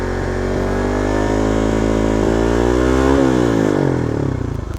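A fuel-injected Suzuki Raider R150 motorcycle engine, under basic ECU tuning, revs hard and high close up, its tone climbing and then falling back while still loud, with no talking.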